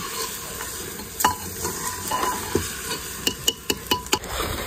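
Rice for pulao is stir-fried in a pot over an open fire, with a close frying sizzle and repeated scraping stirs that turn into quick, rhythmic strokes toward the end.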